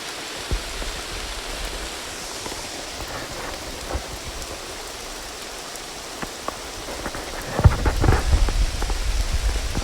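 Steady rainfall hissing on surfaces with scattered drops, and a heavier burst of pattering near the end; no voices.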